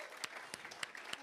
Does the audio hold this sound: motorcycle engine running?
no